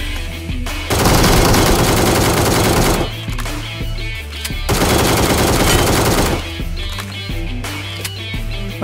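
Bursts of automatic fire from an ACE32 assault rifle in PUBG Mobile, two long loud sustained volleys separated by quieter pauses with background game music, no talk.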